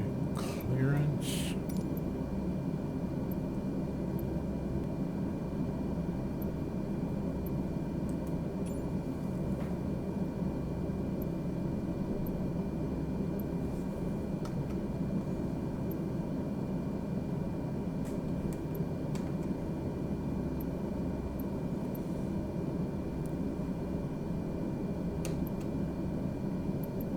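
Engines of a Beechcraft King Air 350i idling on the ground in MS Flight Simulator 2020, a steady low drone with a constant hum and faint ticking, unbroken throughout.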